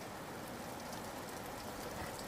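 Steady rain falling, a dense even hiss with scattered patter, faint and continuous without any voices.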